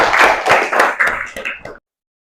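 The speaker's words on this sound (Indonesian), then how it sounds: "Tepuk tangan untuk kelompok" A classroom group claps for a presenting team in an Indonesian teacher assessment session, several close bursts of uneven hand claps that thin out and stop abruptly after under two seconds.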